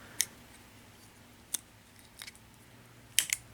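Small scissors on a Swiss Army knife multi-tool being handled: a few sharp, isolated metallic snips and clicks, close and fairly crisp, spaced out over a few seconds with a quiet background.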